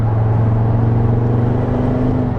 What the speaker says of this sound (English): it accelerates ridiculously, and you can hear the whine a little bit